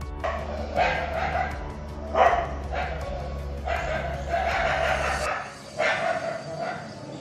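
Dogs bark repeatedly in loud, close yelps at an irregular rhythm, some barks overlapping, with a steady low hum beneath that cuts out near the end.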